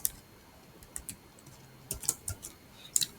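A computer keyboard being typed on while writing Java code: scattered soft keystrokes in small irregular bursts, quiet and close, with no talking.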